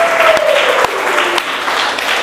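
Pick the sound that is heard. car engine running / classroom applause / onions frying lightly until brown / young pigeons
classroom applause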